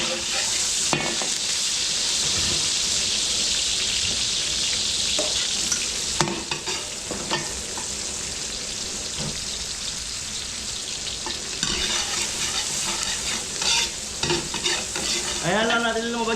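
Garlic and onion sauté loudly in a hot pan with constant sizzling, broken by frequent stirring scrapes and utensil knocks against the pan.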